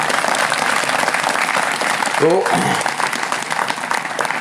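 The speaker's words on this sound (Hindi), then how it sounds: "इनके लिए तालियां" A gathered crowd claps steadily for a mentor at a felicitation event, a thick, close wash of applause with a voice briefly speaking over it midway.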